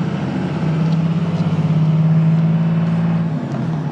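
A 2001 Dodge Ram 2500 Cummins diesel pickup with a six-speed gearbox drives along, its engine holding a steady, loud low drone close by with a faint tonal hum and no talk.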